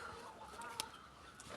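Chickens cluck softly in a garden, a few short calls and one sharper squawk rising briefly over a quiet outdoor background, faint and close.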